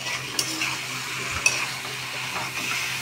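Boiled jackfruit and potato are stirred and mashed together in a pan, giving a steady soft scraping and sizzling bed with a couple of light clinks of the utensil against the pan.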